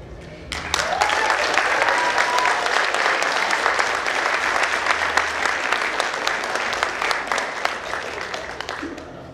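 At a celebrity roast event, the audience bursts into loud, sustained applause, a thick crackle of many hands clapping close and steady for several seconds, with some cheering mixed in.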